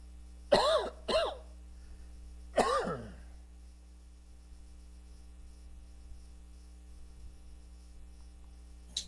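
A man coughs and clears his throat in three short harsh bursts early on, followed by quiet with a steady electrical hum underneath.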